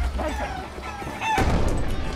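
Chickens cluck and squawk in a video game, a busy flock of close, overlapping calls rising in intensity toward the end.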